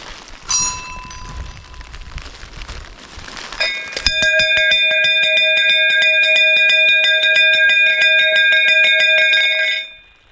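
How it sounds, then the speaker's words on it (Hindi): A metal bell on the foggy Rudranath Temple trek is struck rapidly and repeatedly, a loud, bright ringing clang sustained for several seconds after a couple of earlier single strikes. "यहाँ पर एक घंटी लगी हुई है"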